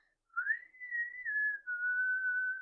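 A person whistles one sustained, wavering tone for about two seconds after a short silence, close and fairly quiet, with a brief dip partway through and no talking.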